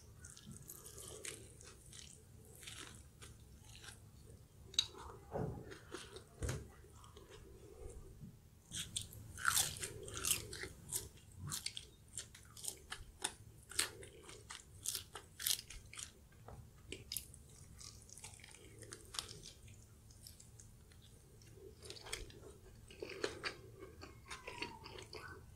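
Close, wet biting and crunching on a soft-shell crab cheeseburger with a juicy patty, repeated chewing bursts through a quiet room with no talk.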